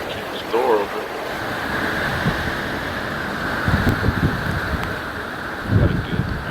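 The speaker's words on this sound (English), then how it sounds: "Got a gust there." Hurricane Irma's wind gusts roar steadily at an overnight beachside spot, a loud broadband rush with surging bursts and low buffeting thumps against the microphone.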